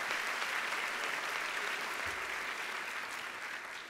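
Sustained applause from a large audience at a medical school white coat ceremony fills the hall, dense and even, slowly tapering toward the end.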